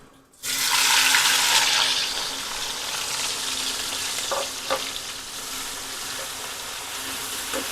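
Onions hit hot fat and start frying until brown in a home kitchen, opening with a sudden loud sizzle that settles into a steady, softer hiss with a few faint stirring clinks.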